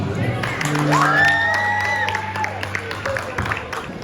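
A school crowd at an autism awareness celebration claps, cheers and whoops for the student band, loud and close, with shouted voices and a rising holler over the applause.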